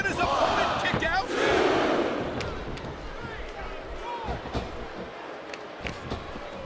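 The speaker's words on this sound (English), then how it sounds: "the crowd has come alive tonight with a chant directed at the superstars in the ring" Loud arena crowd chanting and roaring in the WWE SmackDown vs. Raw 2007 video game during an elimination tag match, a dense, sustained wall of voices that swells early and then settles into a steady noisy din.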